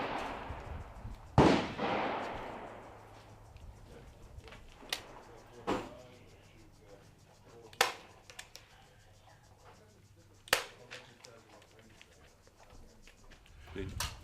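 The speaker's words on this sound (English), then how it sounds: "And I'm shooting at the long range." Rifle shots at an outdoor long-range shooting range, sharp loud cracks spaced several seconds apart with a few fainter distant reports, echoing in open air.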